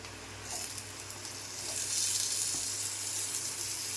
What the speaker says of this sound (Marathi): आता मी टोमॅटो टाकून घेते